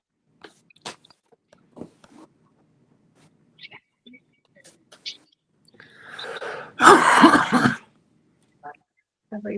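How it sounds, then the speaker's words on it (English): Coughing and throat clearing among people gathered for a board meeting, starting as scattered small clicks and throat noises, then one louder, rough burst of coughing near the end, with faint whispering in between. "Everybody's got the cough, the dreaded cough."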